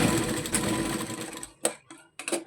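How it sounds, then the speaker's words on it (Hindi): A sewing machine stitches the second collar piece for a baby frock, a steady close whirring run for about a second and a half, then two short separate bursts with brief pauses between. "अब मैं दूसरी पट्टी में सिलाई लगा देती हूँ,"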